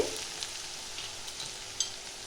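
Onions fry lightly in a pan for a Bengali mutton kheema ghugni, giving a soft, continuous sizzle with faint crackles and one small stir or pop, gentle and close with no talking.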